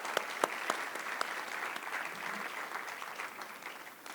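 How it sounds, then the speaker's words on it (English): An audience at a school board meeting claps in a round of applause for National Merit Scholars, a steady wash of hand claps with a few sharp close claps early on, gradually thinning toward the end. "a round of applause for all of our National Merit Scholars from both Magnolia High and Magnolia West"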